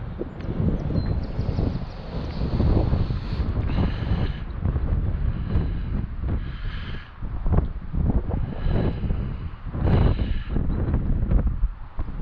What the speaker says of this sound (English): That's how much the wind is picking up, and it's getting really crazy.